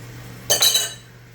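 A kitchen knife being rinsed under running water, a short clink of metal followed by a brief splashing rush of water, close and alone, lasting about half a second.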